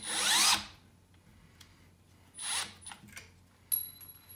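A Milwaukee M12 1/2-inch hammer drill/driver drives a screw in two short, close whirring bursts, with a few sharp mechanical clicks and ticks in the quieter gap between them.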